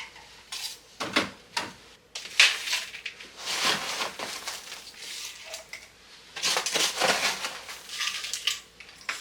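Potting soil poured and pressed around the roots of a Ferocactus in a pot during repotting, giving gritty, crunchy scraping and rustling in several close bursts with brief pauses.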